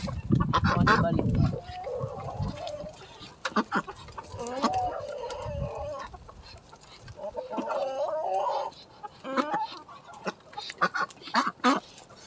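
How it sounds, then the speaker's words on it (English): Ducks crowding around someone's feet at a chicken-feeding spot, giving repeated nasal honks and quacks in irregular bursts, close by, with some scuffling between calls. "Always ducks around my feet."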